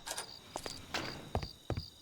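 Crickets chirping in the woods, faint scattered high chirps with a few soft low thuds nearby, a quiet night ambience with no voices.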